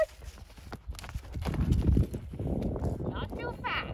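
A horse walks with clear, irregular hoof clip-clops close by, while a person speaks over the steps.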